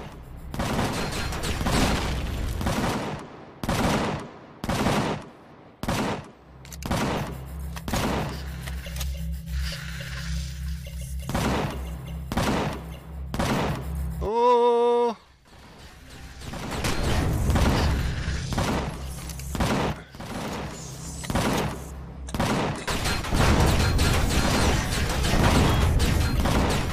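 Guns fire in the sci-fi survival game Empyrion - Galactic Survival: loud bursts of rapid shots and single blasts with brief pauses, a mechanical whir in the middle, then dense sustained fire.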